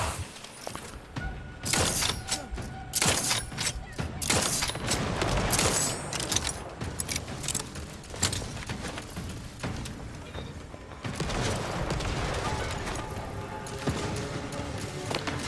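Turret gunfire in the video game The Outer Worlds 2 comes as dense bursts of rapid, clattering shots with crashing impacts, loud at first, then easing into a busier mechanical rattle.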